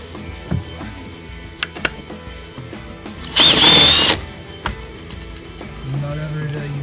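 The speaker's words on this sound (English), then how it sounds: "Not every day you want to drill a hole in the boat." A power drill bores a hole in an old boat under restoration, a short, sharp high whine of under a second that stands out against quiet workshop clatter and faint background noise.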